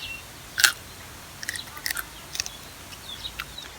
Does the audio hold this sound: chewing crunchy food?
yes